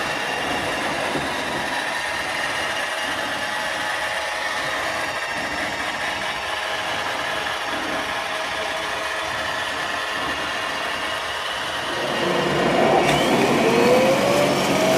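An iRobot Roomba i5+ auto-empty base emptying the robot vacuum's dustbin, a steady loud whooshing suction roar that holds evenly, then rises in pitch and intensity near the end, heard up close with no speech.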